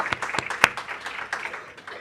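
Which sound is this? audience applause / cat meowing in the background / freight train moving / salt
audience applause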